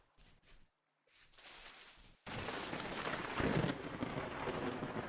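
Thunder from lightning in the Vintage Story video game, a sudden loud crack followed by a long deep rumbling roll that sustains for several seconds after a few quieter rumbles.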